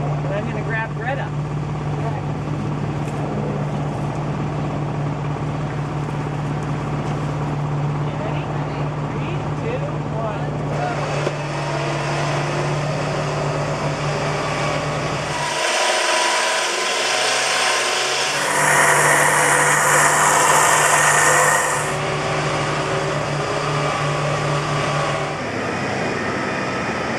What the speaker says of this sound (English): each winch sounds like and how fast each winch is